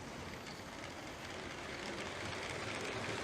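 A Lego toy train runs along its track with a faint, steady mechanical whir and no breaks.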